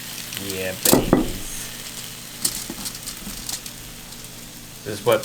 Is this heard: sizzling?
yes